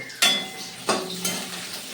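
Onions drop into hot oil in a pan for a chicken dish, giving a few quick bursts of sizzle with clinks of a utensil against the pan over a short stretch.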